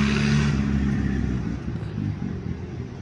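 A Farmall tractor engine revs hard while climbing a hill, a deep, loud rumbling drone that eases slightly over a few seconds and has a faint clatter in it.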